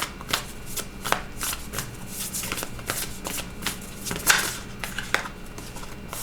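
Tarot cards shuffled by hand up close, a continuous run of quick riffling and slapping card sounds with uneven rhythm, with no talking.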